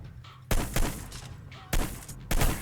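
Two bursts of gunfire cut down gang members in the video game Hitman Blood Money, each a sharp loud volley of a few shots, the first around a half-second in and a second pair near the end, over a low steady game backdrop.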